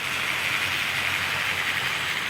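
A Hornby R.154 Sir Dinadan model locomotive with a reconditioned motor runs smoothly along the track, giving a steady, even whirring hiss with no pauses, heard close and alone.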